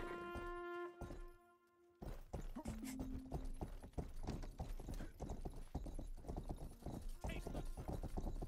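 A horse gallops in the video game Rustler, its rapid clip-clop hoofbeats steady and prominent after a brief tonal intro, with game sounds around it.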